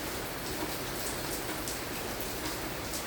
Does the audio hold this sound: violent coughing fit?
no